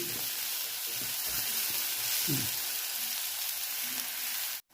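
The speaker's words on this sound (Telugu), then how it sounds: "చూసారా, ఉల్లిపాయలు వేగాయి, కొంచెం గోల్డెన్ బ్రౌన్ అయ్యాయి." Onions fry in a pan until golden brown, a steady close sizzle with a few soft stirring scrapes and clinks, alone without talk, cutting off abruptly at the end.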